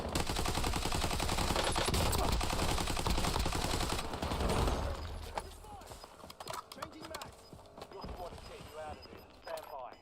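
Gunfire in a Call of Duty Warzone match, dense rapid bursts of automatic fire dominating the first half, then thinning into scattered distant shots and clatter, with voices talking over it.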